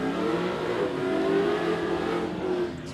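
A Toyota Hilux dual cab accelerates hard down a drag strip at Warwick Dragway, its engine roaring steadily and rising in pitch for about three seconds, close and loud, with a slight drop at the end.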